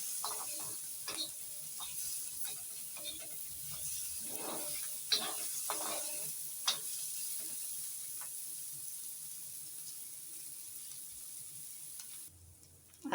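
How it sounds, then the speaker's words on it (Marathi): Ginger and garlic roasting in a pan for a Malvani-style masala paste, with a soft continuous sizzle and hiss broken by occasional louder crackles and scraping stirs, nearby and fairly quiet, with no one speaking. "ह्याच्यातच आलं आणि लसूण भाजायला घेतली आहे"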